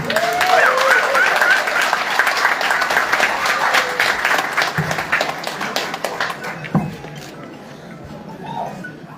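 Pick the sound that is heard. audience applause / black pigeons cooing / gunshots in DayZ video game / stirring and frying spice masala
audience applause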